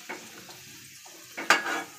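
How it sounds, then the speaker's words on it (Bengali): Pitha cakes made from egg and flour lifted out of frying oil, with a quiet sizzle, short scrapes and a sharp metallic clink of the utensil against the pan. "তো আমি পিঠাগুলো এখন উঠিয়ে নেব।"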